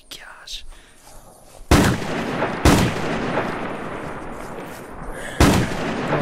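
A shotgun fitted with a 12-round drum magazine fires three loud, booming shots in the Unturned video game, spaced irregularly, each followed by a long rumbling decay over a steady background.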